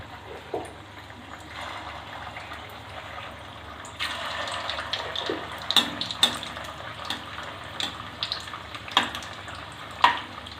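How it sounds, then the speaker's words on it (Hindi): Kofta balls frying in hot oil over a medium flame for malai kofta, a steady broadband sizzle with sharper crackles and pops growing busier partway through, close and fairly loud, no voices. "अब हम तेल गरम हो चुका है, हम कोफ्तों को मीडियम फ्लेम पे तल देंगे।"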